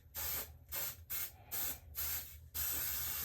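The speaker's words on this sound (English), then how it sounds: "I'm gonna take my silicone spray and I'm gonna just spray the inside" Five short hissing bursts from a silicone spray can into a resin frog mold, evenly spaced, ending in a longer continuous spray, close and fairly loud.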